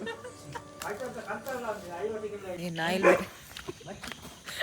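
A dog barks a few times close by, mixed in with people talking throughout.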